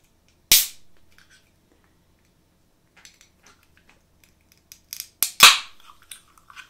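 Ice cubes clatter into a glass for an ice-cold drink, close up in a quiet room: one sharp crack, then scattered soft clinks and a final cluster of louder knocks.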